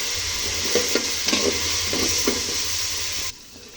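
Cauliflower stir-frying in a pan with pepper for fried rice, steady sizzle with rhythmic scraping stirs close by, stopping abruptly near the end.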